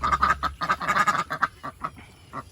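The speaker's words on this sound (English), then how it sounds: "The loud, deep quacks, like what you're hearing from these girls, that's females." Female ducks give loud, deep quacks in quick bursts, several calls overlapping nearby and then thinning out into a few scattered quacks.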